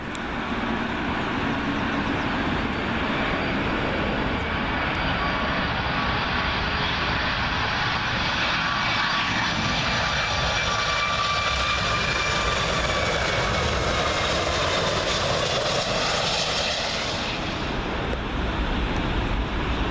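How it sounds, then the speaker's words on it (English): An Icelandair Boeing 757 landing on Heathrow runway 27L produces a continuous broad engine roar that swells and holds for about twenty seconds, then eases near the end, heard alone. "Next up in the 80 years of aviation livery, IcelandAir 757."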